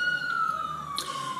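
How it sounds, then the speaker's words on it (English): A police-type emergency siren passes outside, one long wailing tone sliding slowly downward as it moves away, muffled and steady behind indoor room noise. "let me wait for the sirens to go by"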